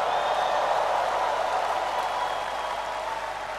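Church congregation clapping during a praise service, a dense, steady wash of applause from many hands that fades slightly toward the end.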